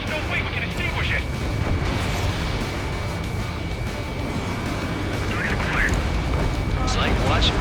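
Burning oil tank exploding in the Ace Combat 7 pipeline destruction mission, a continuous heavy roar of booms and rumbling blasts filling the whole stretch, with crackling bursts and a voice speaking over it.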